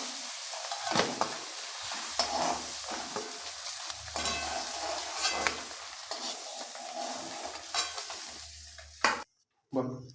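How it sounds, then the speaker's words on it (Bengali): Prawns frying in hot oil in a pan for a Bengali prawn malai curry, a loud continuous sizzle with bursts of crackling and spatter, broken by scraping stirs and a few metal clanks, with a brief silent gap near the end. "বাকি চিংড়ি মাছগুলো আবার ভেজে নিচ্ছি সেই তেলে"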